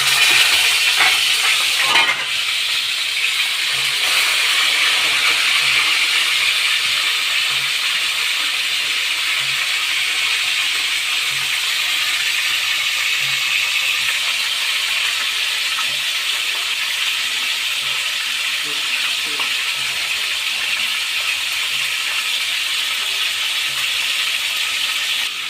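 Fish heads fry in hot oil, giving a steady, loud, broadband sizzling hiss that runs unbroken throughout with no talking.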